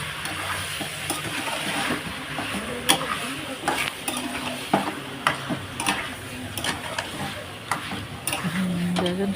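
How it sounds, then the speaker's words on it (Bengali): Chicken sautéed with a ground cumin and chili paste, stirred steadily in a pan, with a constant sizzle and repeated scraping and clicking of the spoon against the metal. "এইভাবে নেড়ে নেড়ে কষিয়ে নেবে পারে"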